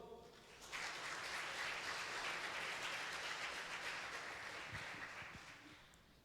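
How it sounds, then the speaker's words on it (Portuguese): Church congregation applauding, a sustained faint wash of clapping from a large crowd, heard at a distance and slowly tapering off. "Vamos aplaudir ao Senhor?"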